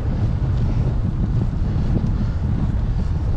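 A strong headwind buffets the microphone during a canal-side bike ride, a loud, continuous low rumble with no voices.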